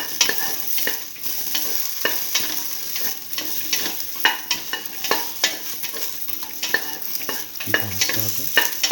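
A beef and okra stew mixture is sautéed in a pan, steady frying sizzle under repeated scraping stirs, close and fairly loud, with the rhythm continuing throughout.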